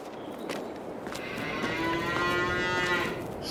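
Cows in a large barn in Farming Simulator 22 let out one long, loud, drawn-out moo that swells and holds for a couple of seconds.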